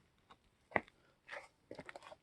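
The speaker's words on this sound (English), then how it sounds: "This is the sound of me stepping on the cement." Footsteps on cement at night, a few soft scuffing steps in a quiet outdoor setting, close and faint, spaced irregularly.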